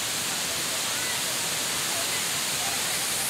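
Tinuy-an Falls in Bislig City roars as a loud, continuous broadband rush of falling water that fills the whole scene. A faint voice sits beneath it.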